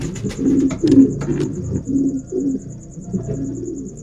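A brooding female pigeon on its nest coos in low, soft, repeated rolling calls, close and steady, with a faint high chirping in the background.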